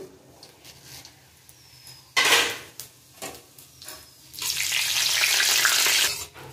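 Panch phoron whole spices with bay leaf and dried red chilli sizzling in hot oil in a dal pan, a loud burst of crackle in the middle and a sustained sizzle near the end, with softer kitchen clatter between.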